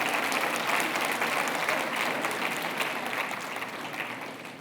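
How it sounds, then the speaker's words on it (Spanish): Sustained applause from a large audience at a lecture on the mysteries of the universe, a dense, steady wash of clapping that fades slightly toward the end, with no speech over it. "Ahora se aplauden, ¿verdad?"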